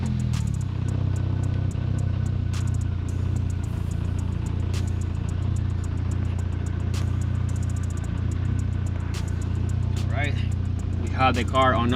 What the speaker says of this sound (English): Have the car on right now.